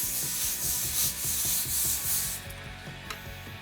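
Permaguard cleaner and degreaser being brushed into concrete, a close, steady rhythmic scrubbing of bristles rasping back and forth with no talking.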